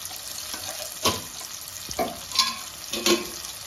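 Mutton masala with onion-garlic masala, red chilli and Kashmiri chilli powder being stirred and fried in a pan, with a few soft scraping strokes and low sizzling, moderately close, no talk.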